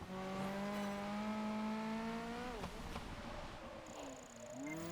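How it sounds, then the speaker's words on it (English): A Ferrari F430 in Project Gotham Racing 4 revs high and steady, then its engine note drops sharply at a gear change before climbing again, loud and close, with tire noise on a wet track underneath. "The noise this car makes when it changes gear is just amazing."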